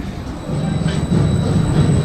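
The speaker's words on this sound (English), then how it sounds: "Mumbo Jumbo, 2009 SNSL Loco roller coaster." A 2009 SNSL Loco roller coaster train (Mumbo Jumbo) rumbles along its track at an amusement park, a steady low rolling rumble with rising intensity and faint wheel squeal, close by with no talk.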